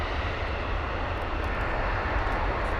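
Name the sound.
aircraft at London Heathrow airport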